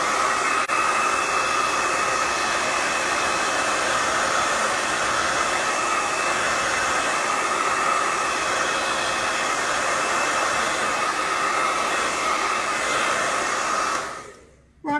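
A hair dryer blows continuously and loudly at close range, drying paint on a rustic painted sled, with a steady airy roar that cuts off just before the end.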